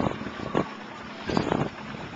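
Wind gusts over a Macgregor 26M sailboat heeling about 20 degrees on open water, coming as two rushing bursts of buffeting microphone noise over a steady low background hiss.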